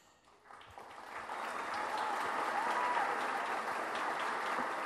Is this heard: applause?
yes